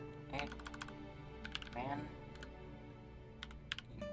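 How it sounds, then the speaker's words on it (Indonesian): Keystrokes on a computer keyboard as a Linux command is typed, a few quick clusters of soft clicks at close range over a quiet electrical hum, with a voice briefly speaking between them. "Jadi kita akan ketik"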